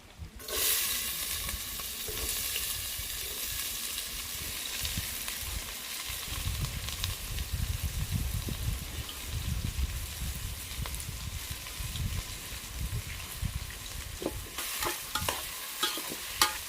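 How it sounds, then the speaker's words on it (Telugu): Chopped onions and green chillies fry in hot oil in a pot over a wood-fired stove, giving a steady, dense sizzle with scraping stirs throughout, without talk. "ఉల్లిపాయలు పచ్చిమిరకాయలు అండి ఇలాగ వేస్తున్నాను నూనె ఇందాక నుంచి కాగుతుంది కదండి"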